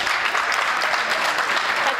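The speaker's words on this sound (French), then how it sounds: "Merci de les applaudir." An indoor audience at an International Women's Day event claps steadily, a dense continuous wash of many hands applauding throughout, with no voices standing out.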